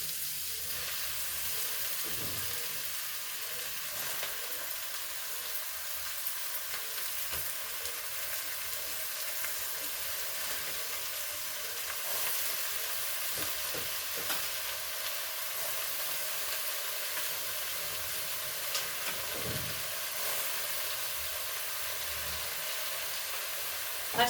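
Chopped spinach frying in a pan, a dense, steady sizzle and hiss running the whole time with occasional soft stirring knocks, close and even.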